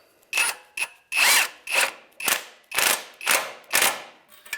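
A power tool tightens the exhaust pipe flange bolts on a 2003-2011 Honda Element during a catalytic converter replacement. About eight short, loud, close bursts come in an even rhythm with brief gaps between them.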